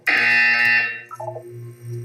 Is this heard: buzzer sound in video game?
yes